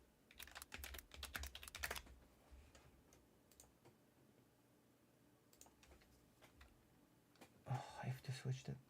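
Keys clatter on a computer keyboard in quick, bursty runs of close, crisp taps, pausing in the middle before another flurry near the end, with faint murmuring in the background.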